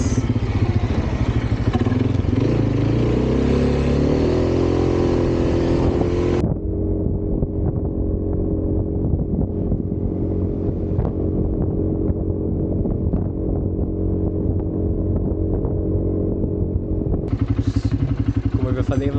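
A quad bike drives along a coastal cliff road on Zakynthos, its engine droning steadily and loudly up close with gear changes and heavy wind buffeting on the microphone.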